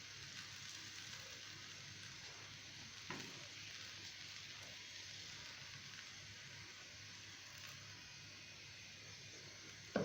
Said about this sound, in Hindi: और अब मैं पराठे तल लूंगी।